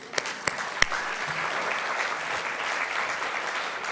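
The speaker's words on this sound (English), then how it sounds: "Round of applause." Audience applause at an education conference's opening remarks, a few sharp claps at the start, then steady dense clapping that holds at an even level throughout.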